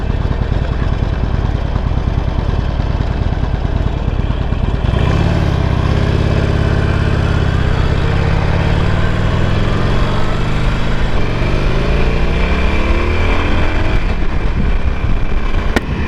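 A Harley Sportster motorcycle with a dirty O2 sensor runs loud and close, its engine droning steadily before a rising rev lifts the pitch midway and holds through the rest of the ride.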